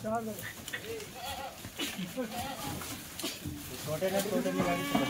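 Several goats bleat in wavering cries, some overlapping, while people talk nearby throughout during loading at a goat sale.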